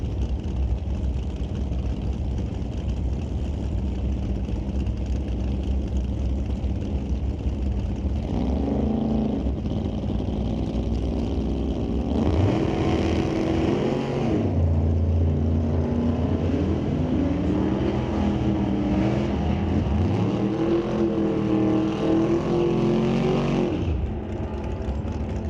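Drag cars, a Corvette Roadster and a '67 Chevy II, staging at the starting line: steady engine rumble swells into loud revving about halfway through, then dies away near the end.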